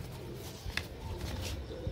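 Twenty-year-old pigeons coo faintly nearby, soft low murmurs over a quiet, noisy background with a brief sharper sound partway through.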